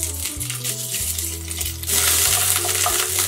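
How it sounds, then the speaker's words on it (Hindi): Chopped coconut and ginger fry in a pan for Bengali bhoger khichdi, a steady close sizzle that grows louder and brighter partway through, with a tonal musical backdrop underneath. "ये कोकोनट लाल होने तक मैं इसे फ्राई करूंगी। अब इसमें ऐड करना है जिंजर"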